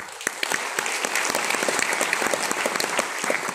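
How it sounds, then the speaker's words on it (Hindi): An audience at a youth empowerment event bursts into strong, steady applause, many hands clapping densely and continuously at close range. "आप अपने लिए एक बार जोरदार ताली दीजिए।"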